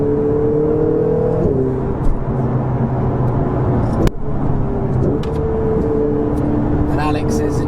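Ferrari 488 GTB being driven hard, its engine note climbing steadily through the revs with a brief break at a gear change, loud and continuous from inside the car.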